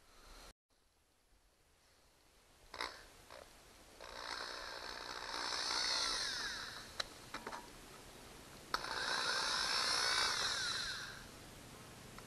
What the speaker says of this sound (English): I can drill here for the back part of this hole